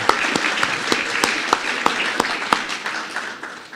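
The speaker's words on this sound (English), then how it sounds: "And we can clap, please" An awards ceremony audience applauds honorees, a dense stretch of clapping punctuated by sharp, regularly spaced louder claps from someone close by, gradually thinning toward the end.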